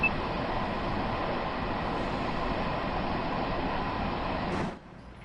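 Steady rumbling run of a Harlem Line commuter train in Train Sim World 2, a continuous broadband roar with no talk, cutting off abruptly near the end.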